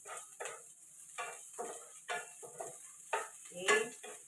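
Cooked pork being stirred in a pan for pinakbet, heard as a series of separate, close scraping and clattering strokes on a roughly regular rhythm against quiet gaps.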